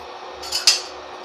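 A metal kadhai is set down on a stovetop for frying, giving a brief metallic clink and scrape close by, followed by a quiet room.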